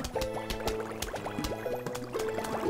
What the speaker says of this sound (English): Don't you just love the bubbling concoction sounds of the fume shroom?